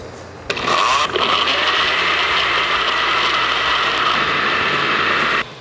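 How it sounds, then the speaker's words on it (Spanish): Blender blending chopped pineapple for homemade jam: a loud close motor roar that kicks in after half a second, with chunks knocking briefly at the start, then holds steady before cutting off. "Y ahora empezamos a licuar."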